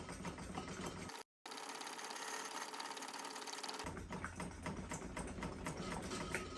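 A Coleman dual fuel premium lantern's fuel tank is hand-pumped with a rapid, steady mechanical clatter of repeated strokes, close up, with a brief dropout early on.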